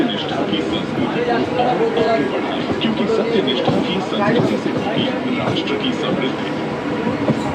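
A non-AC local train runs toward Ranaghat on the Bongaon line, a loud continuous rumble and rattle of carriages heard from inside, with voices mixed into the din.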